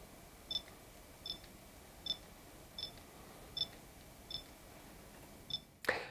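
A Panasonic Lumix S 100mm F2.8 macro lens autofocuses with faint, evenly spaced short whirring ticks, about seven in a row, in a quiet room ending with a brief rustle.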